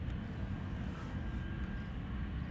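An airplane at Schiphol Airport gives off a steady, broad engine rumble heard from a distance, continuous and even throughout with no voices.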